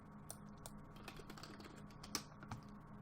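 Quick, light keystrokes on a computer keyboard, irregular taps at close range and fairly quiet, with no voices.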